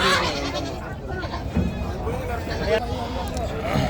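Goats bleating at a busy goat and sheep market in Gudur, with repeated bleats over constant crowd chatter and nearby talk.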